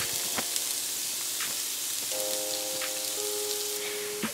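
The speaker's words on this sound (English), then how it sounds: "I have some olive oil in my pan right now, and it's pretty hot. And I'm gonna start with the jalapenos, onions," Jalapenos, onions and garlic sizzling in hot olive oil in a pan for a shrimp taco filling, a steady crackling fry with scattered pops and a faint tonal whine, close and continuous with no talking.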